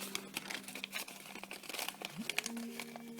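Paper being folded and creased while glued into a Halloween candy bag, with close, crisp crinkling and rustling in short bursts and a faint tonal squeak near the end.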